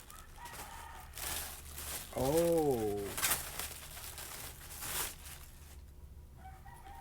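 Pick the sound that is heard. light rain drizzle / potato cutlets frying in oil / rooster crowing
rooster crowing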